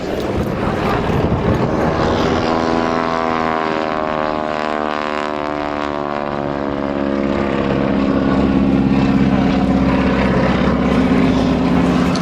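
A propeller aircraft passes slowly from left to right at the Sywell Airshow, its loud, steady engine drone shifting in pitch as it flies by, with no talk over it.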